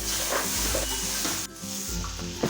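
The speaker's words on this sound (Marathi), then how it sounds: "इथे आपल्याला भेंडी परतण्यासाठी साधारण एक दहा मिनिटे लागतात" Okra sautéing in a pan gives a steady close sizzle, with a brief dip in the middle before the frying noise picks up again. Low tonal hum runs underneath, and no one speaks.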